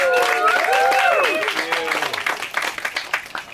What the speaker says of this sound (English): give a snap and a clap and a shout